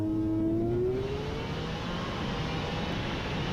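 A race car run heard from inside the cockpit, its engine note climbing steadily in a high whine over a constant loud roar, revving hard and close without pause.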